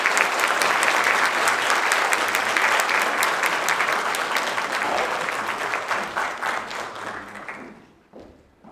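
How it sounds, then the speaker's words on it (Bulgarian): At a creator-of-the-year awards ceremony, a hall audience welcomes an award presenter with loud, sustained applause that gradually fades, leaving a few scattered final claps. "Посрещнете я с бурни аплодисменти"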